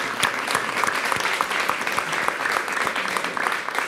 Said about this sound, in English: Another round of applause for Caroline.